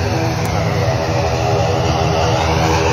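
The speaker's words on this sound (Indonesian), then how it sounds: "Kita akan menyaksikan detik-detik pesawat ini terbang dari" An airliner takes off from the runway at Tampa Padang airport in Mamuju, a loud, steady, close engine roar with a constant droning hum and no pauses.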